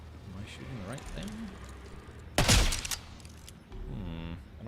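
Gunfire in the video game Borderlands 4, one loud sharp burst standing out amid game sound effects, with a person talking before and after.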